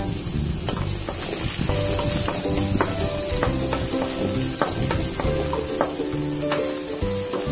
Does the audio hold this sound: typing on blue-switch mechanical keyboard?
no